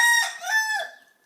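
A rooster crows once nearby, a bright rising and falling call that trails off within about a second, clear and alone.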